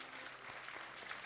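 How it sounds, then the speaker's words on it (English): Steady applause from a conference audience gathered for a world peace event in Vienna, a dense, even patter of many hands clapping with no voices over it. "Please applaud"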